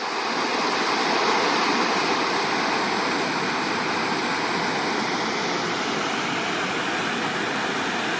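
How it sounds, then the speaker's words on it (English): A small waterfall beside a forest service road gives off a loud, continuous rushing hiss, steady and unbroken from start to finish, with no voices. "There's a nice little waterfall up there while I'm filming the pothole."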